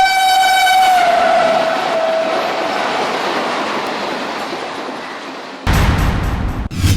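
A train passes nearby with a long whistle blast at the start, then a steady rumble of rolling cars, ending in sharp rhythmic clatter of wheels over rail joints.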